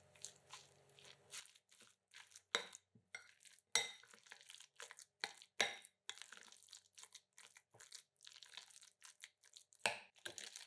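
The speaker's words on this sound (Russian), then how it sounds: "Все хорошо перемешиваем." A spoon stirring salad filling dressed with mayonnaise in a bowl, giving soft irregular squelching scrapes and occasional sharper clinks against the bowl, close and quiet, with pauses between strokes.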